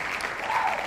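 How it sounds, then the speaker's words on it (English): Audience applause in a comedy-style setting, a short steady burst of clapping at moderate level with no voices over it. "All right, you could stop clapping."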